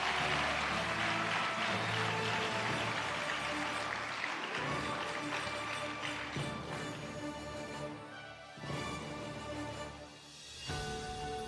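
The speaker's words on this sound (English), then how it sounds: "Amrushai Kunene, give a round of applause." A school audience at a primary school prize-giving claps steadily for an award winner, a dense, sustained wash of applause that tapers slightly toward the end.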